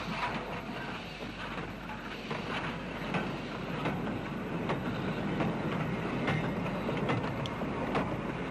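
A Great Northern U-Class 4-4-0 steam locomotive shunting wagons in a Grosvenor Road goods yard, giving a steady, fairly distant rumble of rolling stock with faint clanks and clicks throughout.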